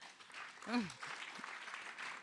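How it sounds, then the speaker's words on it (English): Audience applause at a live short-film premiere fills the room at steady strength, with a brief rising vocal whoop near the start. "Please give yourselves a round of applause"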